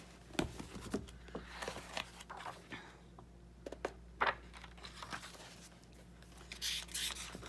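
Scissors cutting a sheet of paper for a handmade traveler's journal, faint, close snips and crisp paper rustles in short scattered bursts over a quiet background.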